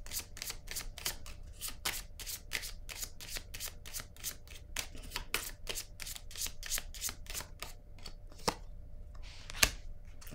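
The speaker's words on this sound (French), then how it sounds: "Je vais piger une carte sur elle, pourquoi pas." Tarot cards being shuffled, a quick steady run of crisp, close riffling snaps that thins out near the end into a few isolated card flicks.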